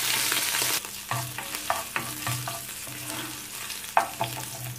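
Beef fat melting in oil in a frying pan, a steady hiss broken by scraping stirs and clinks of a utensil against the pan, close and fairly quiet, with no voices.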